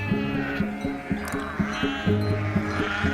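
Sheep bleating in an animated story, a run of repeated wavering bleats that carry steadily through the whole stretch, with no talking over them.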